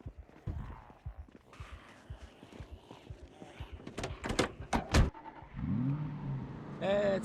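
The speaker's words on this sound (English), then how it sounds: "He makes a break for it, hops back in his zombie-crushing car, and returns to his gated community." A zombie-crushing car in the video game Project Zomboid is heard through clicks and knocks, a door-like thud, then an engine that revs up toward the end.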